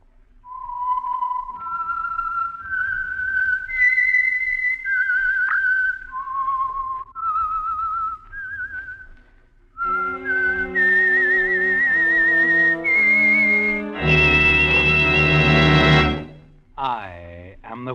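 A melodic whistle serves as the identifying signal for the Signal Oil radio program The Whistler: a clear, loud solo tune of sustained notes, briefly joined by an orchestral swell near the end.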